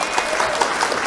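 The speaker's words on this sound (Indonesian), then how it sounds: "tepuk tangannya dulu boleh ya" Audience applause at an Indonesian award talk show, a steady dense clapping from a crowd that fills the short moment without voices on top.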